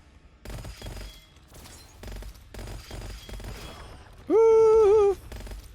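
Rapid weapon fire in the video game Gunfire Reborn with piercing shots, a dense rattle of clustered shots in bursts, cut by a loud sustained tonal whine near the end, no voices.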